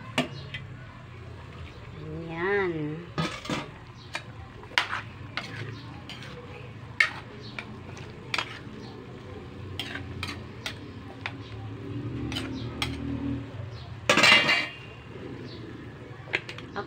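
Utensils stir and clink against a pot while kalderita cooks, with scattered taps and scrapes, a brief sizzle and a louder clatter near the end, under occasional talk.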